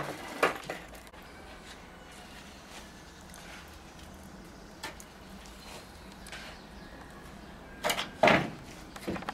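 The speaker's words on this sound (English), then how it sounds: "Here we're removing the panels which holds the tie down." Wooden panels are pried off a roof tie-down at an earthbag building site, giving scattered knocks, scrapes and creaks of wood, with a louder bang near the start and a cluster of loud thumps near the end over quiet outdoor background.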